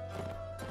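Horse hooves clip-clop briefly in the Mount and Blade game, a quick close burst of footfalls with a faint whinny-like tone over steady game background.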